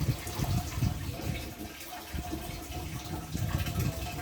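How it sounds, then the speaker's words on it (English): Cool water runs from the tap of a school water cooler, a steady splashing gush with faint voices nearby. "we have a water cooler where cool water comes from it."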